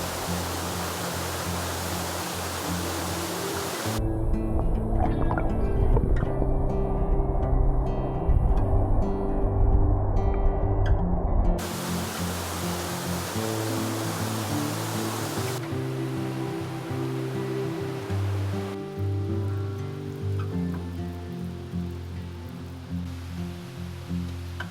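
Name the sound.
small mountain streams and waterfalls in Austria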